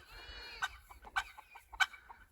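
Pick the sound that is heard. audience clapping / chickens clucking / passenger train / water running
chickens clucking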